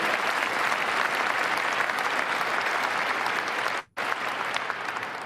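A large crowd applauds steadily and loudly, the dense clapping broken by a brief near-silent cut about two-thirds through before resuming just as full.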